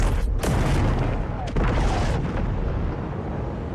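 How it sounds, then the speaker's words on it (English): Loud, dense rumbling explosion from a film action scene, a continuous roaring blast with sharp bursts near the start and middle, sustained at high level throughout without speech. "This is one of the most violent explosions that I have ever seen, and Eddie survived this"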